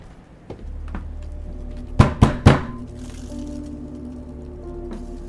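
Three hard, quick bangs on a front door in the horror video game Fears to Fathom, close and loud, rising out of a steady low hum with a softer thud shortly before.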